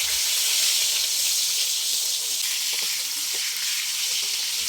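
Tomato halves fry in a little hot oil, a steady close sizzling hiss that holds evenly throughout, with faint stirring touches.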